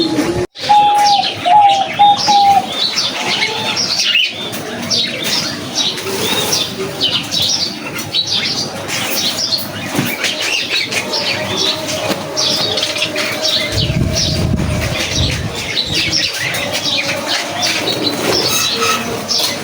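Diamond doves in a new collection coo softly amid a steady chorus of small bird chirps and occasional wing flaps, a continuous busy aviary backdrop at close range.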